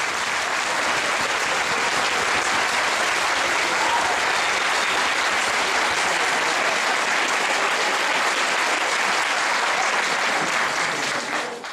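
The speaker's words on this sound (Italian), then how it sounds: "Applausi per Giorgia Alessi Batù." Sustained, loud, dense applause from a crowd voting for a contestant in a semifinal selection, steady without a break for nearly twelve seconds and dropping off at the very end.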